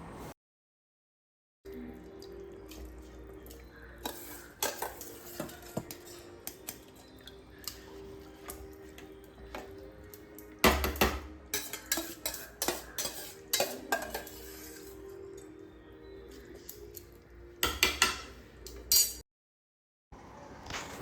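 Soaked ponni rice being stirred in a pressure cooker for tomato rice, with repeated light scraping and clinking of a utensil against the metal pot, close by, in irregular bursts with brief pauses and no talk.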